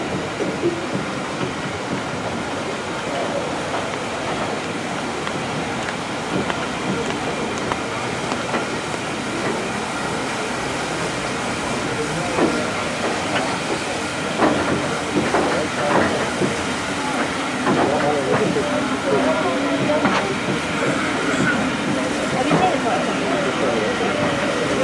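A steam locomotive struggles to haul a train out of Bridgnorth station, rumbling and clattering steadily for a long stretch, with hissing and rhythmic rail clicks, loud and close throughout.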